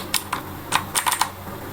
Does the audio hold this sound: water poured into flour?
no